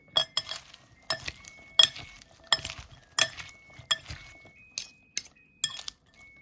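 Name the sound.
mixing prawn salad with dressing in a bowl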